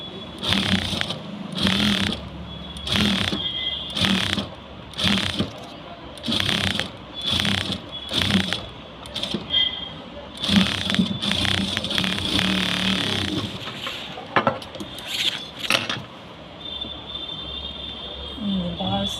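A tailor's sewing machine stitches a sleeve hem on a blouse, chattering in a steady series of close, loud mechanical bursts with brief pauses between runs.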